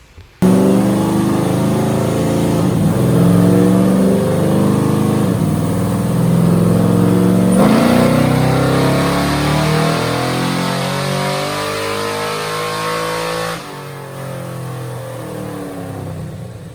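A car engine revs loudly and steadily under load on a dyno during engine tuning, pitch rising through a long sustained pull before dropping back as the throttle eases.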